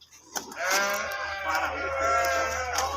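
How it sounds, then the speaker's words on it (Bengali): Goats on a dairy cattle farm bleat, with one long, wavering, close cry lasting most of the clip. "ছাগলও আছে পাশে"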